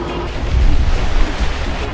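Atlantic ocean waves wash and surge around a sailboat under way in rough weather, a loud, continuous close roar of water with wind noise.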